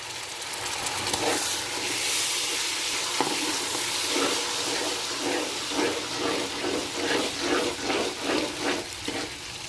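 Sugar and water being stirred in a pot for a sweet rice dish, giving repeated scraping, swishing strokes in a loose rhythm, close and fairly loud, with no talking.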